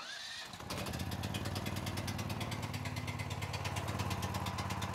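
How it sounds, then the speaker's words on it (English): A portable generator is started with its electric starter, a brief crank catching within half a second, then the engine settles into a steady, close, loud running drone. "Next thing we're gonna do is use that electronic start and start up the generator."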